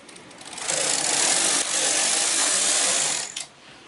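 A knitting machine carriage sweeps across knitting the rows of a sweater back, a loud, close whooshing, rattling pass lasting about three seconds before a short clack and quiet.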